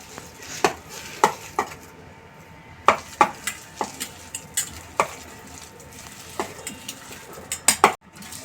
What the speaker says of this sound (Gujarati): હવે આપણે એને મિક્સ કરીશું.